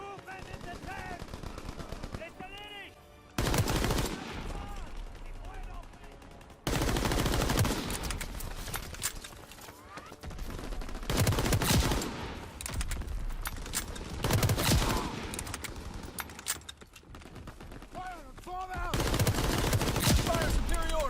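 Sustained machine-gun fire and scattered gunshots from a Call of Duty: WWII multiplayer match fill the scene, with long loud bursts broken by brief lulls and shouted voices mixed in.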